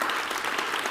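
A warm round of applause from the audience at a human rights forum panel event, dense and steady clapping filling the room for the full second, moderately loud with no voices on top.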